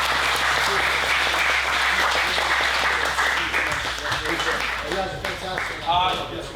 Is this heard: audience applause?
yes